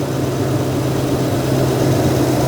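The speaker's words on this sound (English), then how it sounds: "the engine is running perfect" A 2000-2006 Toyota Tundra's 4.7L V8 idles smoothly and steadily after a fuel pressure regulator replacement, its low, even hum close and continuous with no voices.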